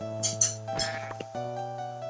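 Goat bleats in the Minecraft One Block survival game, a few short nasal cries over steady background game music, fairly close and moderately loud.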